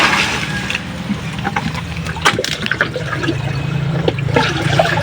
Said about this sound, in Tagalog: tagas ng tubig. Napakabilis po.